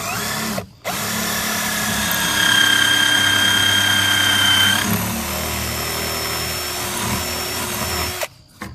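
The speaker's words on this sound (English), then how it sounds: "we go ahead and drill this hole" A power drill bores an angled hole into a 2x4 for a farmhouse bench, a loud continuous whine that rises in pitch and then settles lower, starting and stopping abruptly.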